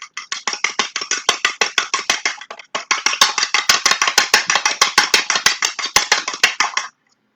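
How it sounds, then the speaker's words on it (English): A single egg whisked briskly in a bowl, utensil clicking against the sides in fast, steady rhythmic strokes with a brief pause midway, close and fairly loud, no talking. "This is just 1 egg, and you're going to whisk it up."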